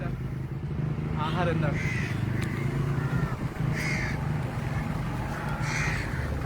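Crows caw repeatedly from nearby at a garbage dump amid a noisy outdoor background, with people talking over the calls.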